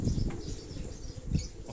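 A pigeon beats its wings in fluttery, rustling bursts close by on a rooftop, with low thumps and a brief stronger flap near the end over faint background noise.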